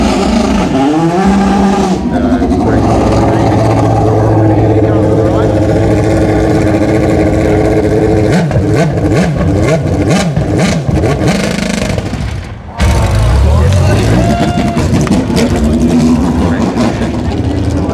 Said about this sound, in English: Mark Pickering driving an actual Indy Racing League Indy car. Not running cleanly at the moment